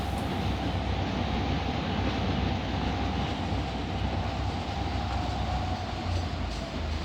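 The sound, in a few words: train running on rails in Trainz video game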